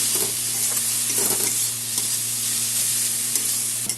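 Tomato with coriander powder, turmeric and Kashmiri chili frying in hot oil for Bengali dal tadka gives a steady, dense sizzle throughout, with a few soft stirring scrapes rising above it.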